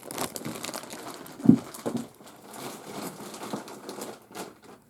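Plastic packaging around vintage lace crinkles and rustles in close, uneven bursts, with one sharper crackle near the middle and quieter handling afterward.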